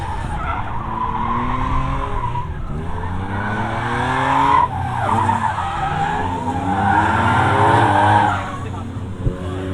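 Drift race cars screech and skid at Meremere Drift Park during qualifying, loud sustained tire squeal layered over roaring engines, with a commentator talking over the noise.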